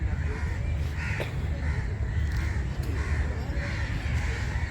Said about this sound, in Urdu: پرندوں کی آوازیں سن رہے